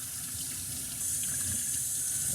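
Water running freely through a stainless steel hookah stem, a steady close splashing rush that grows slightly brighter and louder partway through, with no voices.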